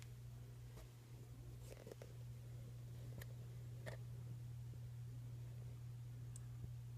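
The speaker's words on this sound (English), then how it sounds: "Speaker's humming." Steady low electrical hum from the speaker of a Philco 42-1008 radio under restoration, a constant drone throughout with a few faint ticks and crackles over it.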